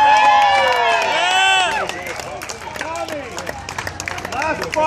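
A crowd at a kielbasa eating contest at a Chicopee festival cheers and whoops for a finisher, excited shouts rising then fading into scattered claps and chatter.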